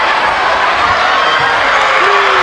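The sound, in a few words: Iowa fans cheering at wrestling championship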